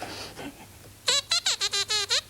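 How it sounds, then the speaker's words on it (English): About seven sharp, squeaky scrapes of a ruler on a desk come in a quick rhythmic burst, harsh and close, after a brief quiet lead-in. "The noise of me scraping a ruler on the desk."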